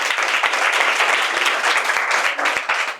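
Loud, dense applause from a classroom of students at a coaching institute in Bhind, steady throughout and easing slightly at the end.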